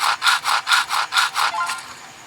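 Seven rhythmic back-and-forth strokes of a saw biting into wood in a Roblox game, crisp and close, fading on the last pass, with no talking over it.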